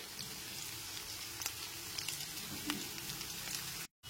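Medium-sized potato pieces fry with lightly browned chopped onion in a pan over a medium gas flame, giving a faint, steady sizzle with soft crackles and no voices.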